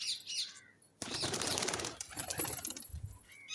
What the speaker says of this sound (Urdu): کبوتر نے تو مستیاں وغیرہ نہیں کی، بلکہ فوراً ہی اڑ گئے